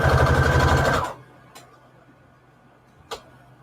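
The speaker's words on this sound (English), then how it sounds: "I think I'm just going to sew this with a straight stitch." A sewing machine runs a straight stitch on a Christmas junk journal embellishment, a loud steady whirring burst for about a second that stops abruptly, followed by a couple of faint clicks.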